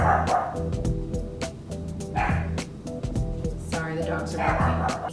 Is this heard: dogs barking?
yes